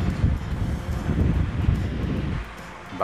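An electric fan, just repaired after spinning slowly, runs at its highest speed with a loud, steady whooshing rush of air close to the microphone.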